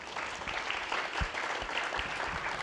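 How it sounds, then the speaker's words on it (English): A conference audience claps for a panel of state superintendents, a dense, moderately loud patter of many hands sustained throughout, with no talk. "Let's give them a round of applause."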